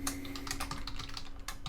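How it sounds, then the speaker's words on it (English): Rapid typing on a computer keyboard, with a Tab key press among the keystrokes, a dense run of close, crisp clicks that never pauses. "I hit tab there."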